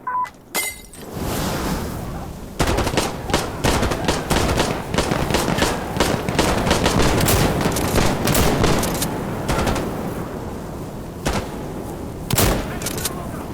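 Rapid automatic gunfire in Insurgency Sandstorm, loud sustained bursts of overlapping shots with crackling impacts and glassy shattering, a sharp opening shot, then dense firing that thins into isolated cracks toward the end.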